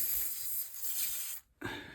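A continuous close hiss of aerosol spray runs for over a second, breaks off briefly, then resumes just as strongly.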